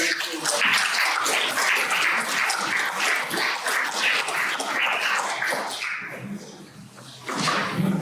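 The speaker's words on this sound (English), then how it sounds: "Henrik to the stage to talk about TIMESPAN, give a round of applause." Audience applause welcoming a speaker to the stage at a public engagement event, crisp nearby claps in a lively burst that thins out toward the end before a short resurgence.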